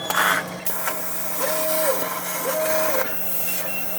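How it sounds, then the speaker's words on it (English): A Fast Cut Icon Elite 4x4 CNC router table cuts parts in a workshop, giving a steady mechanical whine and hiss with two rising and falling tonal sweeps and no talking. "if you can afford one of these machines, Fast cut CNC"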